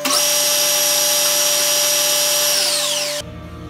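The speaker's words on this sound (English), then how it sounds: "Just throwing the piece back in the lathe. I'm going to true this edge, this cut edge up" Steel piece spinning in a metal lathe while its cut edge is trued, a steady loud motor whine with a bright high tone that sustains for about three seconds, then drops away as the machine stops.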